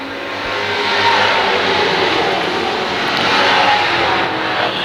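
Pro stock race car accelerating out of turn four at Can-Am Speedway, a loud, steady engine roar that swells and holds as the car comes down the stretch, with no voices over it.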